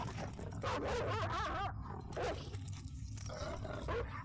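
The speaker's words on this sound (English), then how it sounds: "The dog sound is so loud." Barking dog in the horror game Fear and Hunger, loud and close, with a run of rapid harsh barks over a dense droning game ambience.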